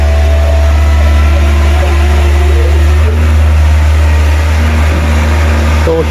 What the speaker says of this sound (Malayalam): അപ്പം രാവിലെ തന്നെ പാർക്കിങ്ങിക്ക് വന്ന വണ്ടിയാണ് കേട്ടോ